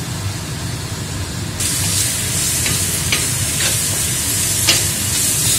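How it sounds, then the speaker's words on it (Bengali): Ground coriander, cumin, chilli and turmeric fry in oil in a pan, a loud continuous sizzle that swells partway through, with occasional spatula taps and scrapes. "তো মশলাটা ভাজা ভাজা হয়ে গেছে"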